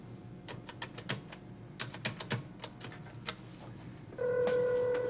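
A telephone is dialed with a quick burst of irregular clicks, then a sustained ring starts near the end, close and clear with no talking.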